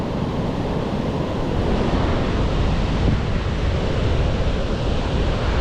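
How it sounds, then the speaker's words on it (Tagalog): Steady, loud roar of ocean surf with heavy wind rumble across the microphone, continuous and unbroken throughout. "Ayun ang alon"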